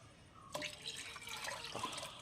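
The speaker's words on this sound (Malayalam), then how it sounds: "കുറച്ച് വെള്ളവും കൂടെ ചേർത്ത് കൊടുക്കുകയാണേ" A little water, with some milk in it, is poured into a cooking pot while making a sago dish in a home kitchen, giving a faint, brief splash and trickle with a few soft drips, close by and without talking.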